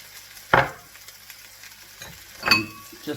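Mushrooms, onion, sun-dried tomato and garlic frying in a greased pan, a soft sizzle broken by two sharper stirring scrapes and clatters, fairly close and without talk.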